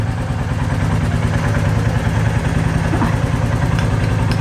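A Royal Enfield Classic 350 Reborn motorcycle engine fitted with a Roots Gladiator III horn, running with a steady close thumping idle that stays loud and even throughout, with no voices.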